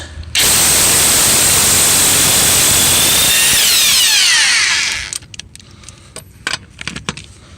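A socket wrench fitted with a 3/8-to-1/2 inch adapter ratchets loudly and continuously on the wheel lug nuts of a 1959 Edsel, the clicking rapid and close for about five seconds before it stops and a few faint metallic taps follow.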